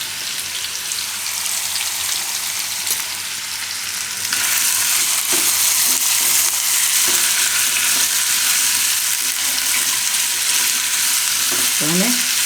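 Potatoes fry in oil with salt and turmeric in a pan, a loud, continuous close sizzle that grows stronger partway through, with occasional stirring scrapes and no talking.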